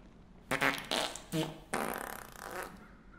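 Fart sounds in the horror video game Don't Scream, several loud, close, buzzy blasts in quick succession, the last one long and sputtering, with no speech over them.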